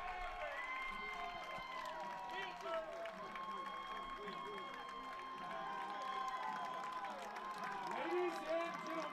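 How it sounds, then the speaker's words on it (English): Baseball crowd at a college game applauding and cheering after a home run, a faint, distant wash of clapping and voices heard under a public-address announcer talking. "another round of applause for Chase Suddeth's second home run of the year"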